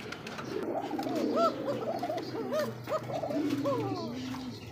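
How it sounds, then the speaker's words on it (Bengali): Several Indonesian Basiraj pigeons coo close by in overlapping, rolling, throaty calls that continue steadily without pause. "বাসিরাজ ককা কবুতর, অরিজিনাল ইন্দোনেশিয়ান"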